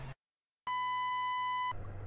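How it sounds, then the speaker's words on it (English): A steady electronic emergency alarm tone, used as an alarm clock in a cartoon, sounds as one sustained beep of about a second, following brief silence. "Everyone has become so adapted to the emergency noise, they're using that as an alarm clock now."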